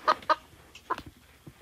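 Game chicken in Roblox clucks in short, sharp bursts, two quick clucks, a pause, then a few fainter clucks, close and clear with no talking.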